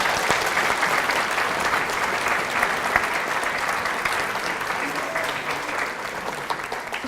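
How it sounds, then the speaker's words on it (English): A conference audience applauds at a keynote, a loud, dense and sustained round of clapping from a large crowd that holds steady and fades slightly toward the end, with no talk over it. "Can we just have a round of applause for them?"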